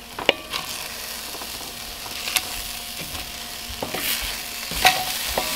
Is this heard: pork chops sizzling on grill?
yes